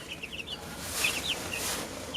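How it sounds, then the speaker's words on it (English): Baby chicks peep and older chickens cluck softly in a dim chicken house, with short high chirps scattered over a steady, faint background hiss. "my baby chicks are way in a portioned off area in the chicken house"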